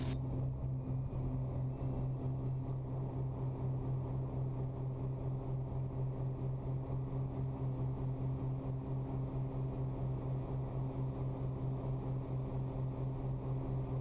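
Steady droning engine hum inside a Beechcraft Baron twin-engine plane climbing after takeoff, a constant low rumble with faint tonal whine throughout, no voices.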